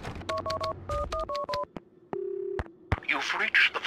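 A telephone being dialed in the video game Max Payne: a quick run of paired DTMF keypad tones, a pause, then a long steady tone and a click, ending in muffled noise as the call connects.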